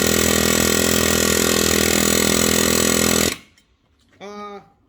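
An air chisel cutting thick steel hammers out a loud, harsh, continuous rattling buzz for over three seconds, then stops abruptly, and a person briefly speaks after it.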